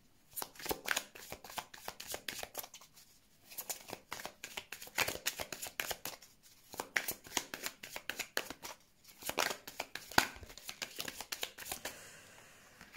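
Tarot cards are shuffled by hand in repeated rapid riffling bursts, close and crisp, with brief pauses between rounds before a card draw.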